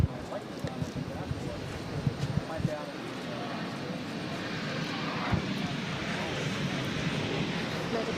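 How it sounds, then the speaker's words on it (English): A Boeing 767-300ER airliner arriving from Edinburgh roars as it comes in to land at Boston airport, a broad steady rumble of jet engines at a distance with light wind noise. "767-300ER coming in from Edinburgh."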